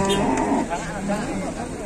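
Large cattle lowing loudly as they are unloaded from a truck, with a deep moo early on and talk over the scene throughout.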